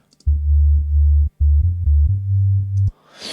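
A Serum synth sub bass line, pitched one octave down with diode distortion, plays several sustained low notes in a stepped rhythm and then stops abruptly, leaving a brief noisy tail.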